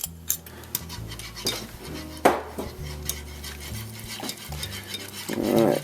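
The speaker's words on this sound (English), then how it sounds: "you want to stir it, otherwise clumps form and nobody likes clumps" A spoon stirs elk stew as it thickens in a pot, making repeated scraping and clinking taps against the metal in an uneven rhythm, close and moderately loud, with no talking.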